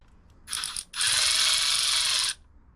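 Close ratcheting from a torque wrench tightening rocker box bolts on a Harley-Davidson Twin Cam engine: a short burst of clicks, a brief pause, then a longer, steady rapid buzz of pawl clicks.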